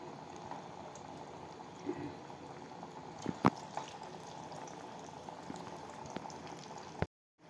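Banana flower vada batter frying in oil over a low flame, a steady bubbling sizzle throughout with a few faint clinks, close and continuous, ending abruptly.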